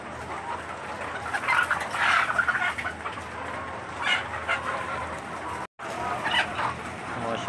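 Chickens on a farm cluck and murmur in a busy flock while they feed, a steady close-by chatter with a brief dropout near the end.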